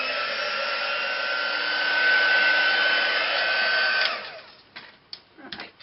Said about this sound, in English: I'm going to dry it with my heat gun